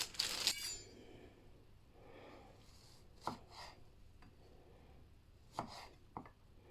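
Knife cutting strawberries on a parchment-lined tray, trimming damaged spots and green stalks: a loud burst of cutting at the start, then sparse crisp chops and taps at moderate distance with quiet gaps between.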